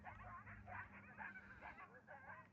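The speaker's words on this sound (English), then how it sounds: "Behind me are coyotes calling to one another." Coyotes in the Arizona desert yip and howl to one another in a continuous, faint, distant chorus over low background rumble.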